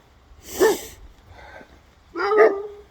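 Puppies bark outdoors during a walk in the woods, two short bursts of yapping about a second and a half apart, close and fairly loud with some wind in the background.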